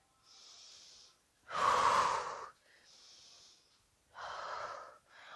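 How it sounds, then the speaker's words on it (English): Heavy exercise breathing during a yoga practice, close and clear: soft hissing inhales through the nose alternate with louder, forceful exhales through the mouth in a slow, uneven rhythm. "Catch your breath, inhale through the nose, exhale through the mouth."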